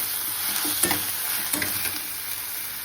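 Onion frying in hot oil with bay leaf, stone flower and cinnamon, a close, constant sizzle broken by a couple of soft stirring scrapes.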